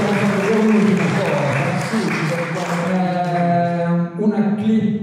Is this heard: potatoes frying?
no